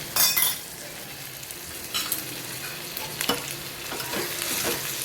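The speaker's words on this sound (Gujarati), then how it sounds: "બધું મિક્સ કરી લઈએ." Red chilli powder, asafoetida and turmeric stirred into hot oil in a pan, sizzling steadily up close with a sharp burst at the start and repeated scraping strokes of a spoon.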